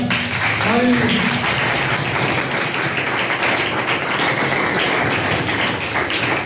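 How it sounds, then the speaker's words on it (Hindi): A church congregation applauds loudly and continuously, a dense, steady wash of clapping that fills the room, with a brief voice at the start. "जोर दे तालियां बताइए आप"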